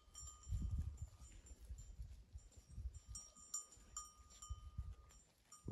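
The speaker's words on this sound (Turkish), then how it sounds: "Burada koyunlar otluyor." Flock of sheep grazing on a mountain pasture, faint bells clinking intermittently and soft low rustling and hoof movement nearby, quiet and sparse with no talk.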